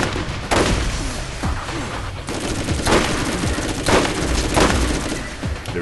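Sustained gunfire in the video game Borderlands, rapid shots and bursts layered densely with booming impacts, loud and continuous throughout.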